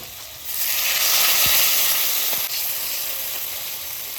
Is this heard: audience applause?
no